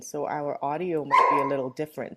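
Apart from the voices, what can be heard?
dog barking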